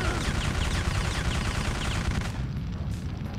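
Gunfire in the Syphon Filter video game crackles in dense, rapid bursts of shots at steady loudness, continuous for a few seconds before easing off.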